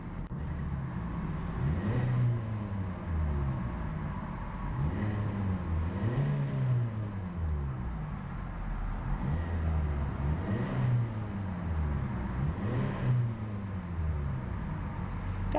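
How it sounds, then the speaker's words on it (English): A 2014 Hyundai Elantra Sport with a 6-speed manual revs repeatedly, its engine note climbing and falling in several rising sweeps over a steady rumble, heard from inside the car. "Definitely a very racy engine note to that little power plant."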